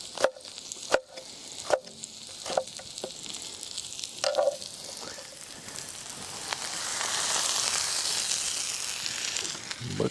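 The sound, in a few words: eggplant pieces sizzling on a grill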